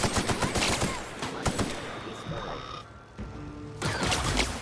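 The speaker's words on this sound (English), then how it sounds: "Turning this assault rifle to plasma was one of the smartest decisions I made." Plasma assault rifle fire from Outer Worlds 2 rattles in rapid, dense bursts through a noisy combat mix, pausing briefly before resuming loud and close.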